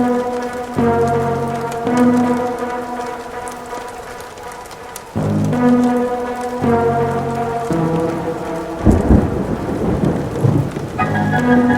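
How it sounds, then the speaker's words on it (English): Steady heavy rain pours down during a cold thunderstorm, with loud rolling thunder swelling and crashing across the downpour, loud and continuous with no voices. "Of course it's cold, raining, there's thunder,"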